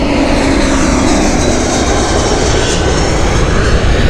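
Loud, steady roar of Euroflyer airliner engines at Gatwick Airport, a continuous broadband jet rumble holding at constant strength throughout with no talk over it.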